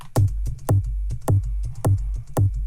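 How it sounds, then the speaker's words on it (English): A programmed electronic kick drum made in Ableton pounds out a steady four-on-the-floor pulse, each hit punchy and boomy with a crisp transient. Lighter percussive ticks fall between the beats in a tight loop, with no talking. "That was our initial kick."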